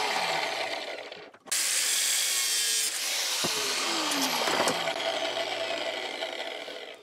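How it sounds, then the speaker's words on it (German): An angle grinder cuts through two orange plastic parts, a harsh continuous grinding whine with a brief dip early on, then sustained loud cutting with shifting pitch. "hier schneide ich jetzt mit der Flex diese beiden orangen Teile einfach"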